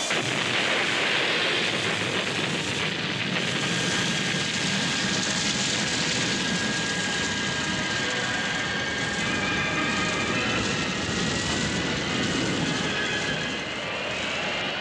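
Jet airliner engines roar steadily during the takeoff roll in a 1979 Soviet disaster film. The thrust noise is loud and sustained, with a faint whine running through it and no talk.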